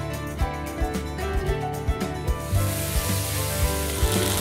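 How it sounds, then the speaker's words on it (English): Fish fillets seasoned with salt and pepper pan-frying in a hot pan, a steady close sizzle with a few light knocks and scrapes of a utensil at regular intervals. "Just cook the fish now for about 2 to 3 minutes on either side."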